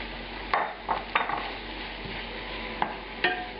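Paprika is stirred into red onions cooking down in a cola glaze, a soft steady sizzle in the pan broken by several sharp scrapes and clinks of the spoon, fairly quiet and with no one talking.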